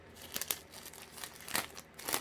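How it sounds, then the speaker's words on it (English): Crinkly plastic bag rustled while a gimbal is unpacked, a few soft close crackles and crumples with no voices. "plastic bag."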